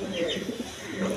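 Mundian pigeons give a brief, soft, low cooing, fairly quiet and close, with a voice faintly present.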